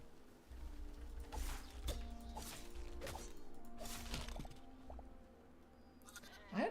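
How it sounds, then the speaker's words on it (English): Sheep bleating in the video game Hytale, several short bleats spaced irregularly among soft whooshing and thumping game sounds, with a rising call near the end. "Sheep."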